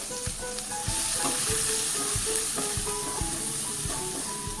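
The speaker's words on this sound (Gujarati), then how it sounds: "ત્યાં સુધી આપણે ડુંગળી ફ્રાય કરવાની છે" Chopped onion frying in a pan of hot oil with cumin seeds and asafoetida over low heat, a steady loud sizzle with regular scraping stirs, close up and without talk.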